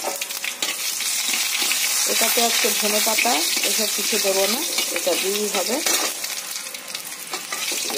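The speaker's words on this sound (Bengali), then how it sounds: "তেলটা গরম হয়ে গেছে, দিয়ে দিচ্ছি তেজপাতা, শুকনো লঙ্কা, আর দিয়ে দেবো এতটুকু 5 ফোড়ন।" Bay leaves, dried red chillies and a pinch of five-spice hit hot oil in a pan for a Bengali dal tempering, giving a loud, steady sizzle that runs throughout while a voice talks over the middle stretch.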